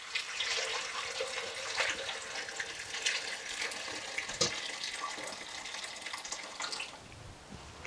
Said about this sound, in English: now we're going to pour the broth into the bowl using the strainer